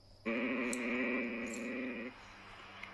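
A frightened dog whimpers in a steady, tremulous whine that lasts about two seconds, fairly close and loud, with no talking over it.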